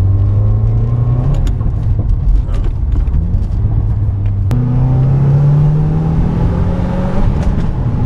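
A 2015 Subaru WRX engine pulling hard through the gears, a loud, steady rumbling drone with rising pitch and a sharp exhaust pop midway, heard from inside the car with no talking.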